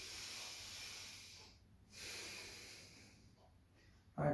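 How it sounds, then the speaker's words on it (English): Forceful Kapalbhati yoga breaths push out as hissy, breathy exhalations with short pauses between them, heard close up with no talking. "Now you can see this is Kapalbhati."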